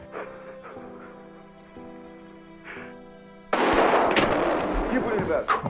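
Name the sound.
gunshots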